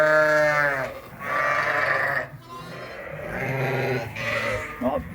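Several lambs bleat loudly inside a farm building, close by, with long overlapping wavering cries one after another and little pause between them.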